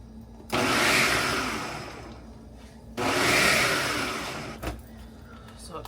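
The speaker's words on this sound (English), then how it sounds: "Goes everything in my food processor, and I am just going to do like a rough chop on these" A food processor roughly chops roasted vegetables for a tomato sauce in two loud whirring bursts of about two seconds each, separated by a short pause, with a small knock near the end.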